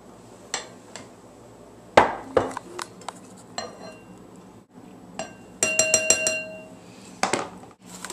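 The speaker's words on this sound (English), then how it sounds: "And then I'm just going to stir it." A spoon stirs raspberries and sugar in a glass container, giving sharp scattered clinks and taps against the glass, some in quick clustered runs, with quiet gaps between.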